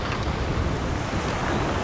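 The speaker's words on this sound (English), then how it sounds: "I'm sure you noticed the wind noise by now" Constant wind roars across the microphone on a beach while surf fishing, a dense rushing noise with a faint wash like surf underneath, unbroken and fairly loud.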